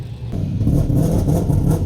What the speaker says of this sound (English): Don't think I've ever seen a monster truck roll past Superstocks on the pits before.